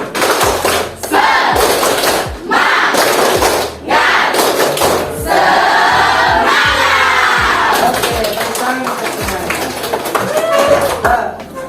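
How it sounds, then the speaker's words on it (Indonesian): A classroom of students performs a rhythmic spirit clap chant, with groups of loud claps and thumps alternating with shouted chanting voices. The patterned bursts continue throughout. "kita tepuk semangat dulu ya"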